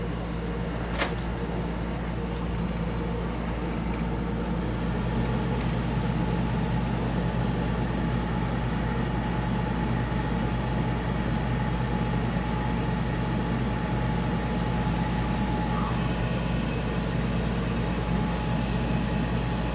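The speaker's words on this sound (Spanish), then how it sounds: "el ventilador está un poquito raro" The fan of an old air conditioner runs with a steady low hum and a drone. A faint whine and a few brief clicks come through, with no talking.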